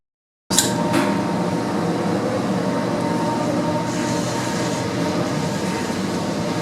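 A steady, loud mechanical rumble and hum of an elevator car moving up its shaft at 2.5 meters per second, with a fan above the car, holding even throughout with no voices.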